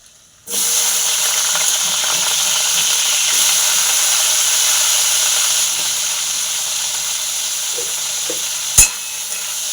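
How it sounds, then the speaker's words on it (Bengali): Loud, sudden burst of sizzling as potatoes hit hot oil, then a steady crackling fry with one sharp clank near the end. "আলুগুলো ভেজে নিচ্ছি"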